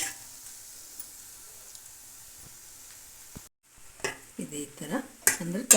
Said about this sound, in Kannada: ಇದೇ ತರಹ ತುಪ್ಪ ಸ್ವಲ್ಪ ಸ್ವಲ್ಪನೇ ಸೇರಿಸ್ಕಿಂತ ಬೇಯಿಸ್ಬಿಡೋಣ